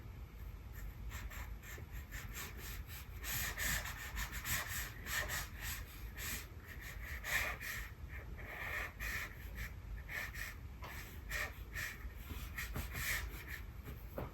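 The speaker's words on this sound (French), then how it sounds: "Donc on va finir avec le crayon de couleur." A coloured pencil scratches and rubs steadily across paper, close up, in a continuous run of quick back-and-forth strokes with a soft, dry texture.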